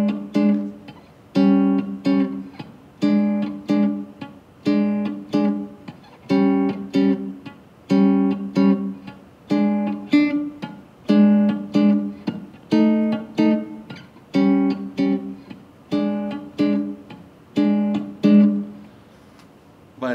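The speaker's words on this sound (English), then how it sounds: "I just have these little tritone shapes that I'm moving through the blues like this." Clipped, rhythmic guitar chord stabs from small tritone shapes without a bass note, moving through a blues progression in a steady comping pattern, each short chord choked off before the next.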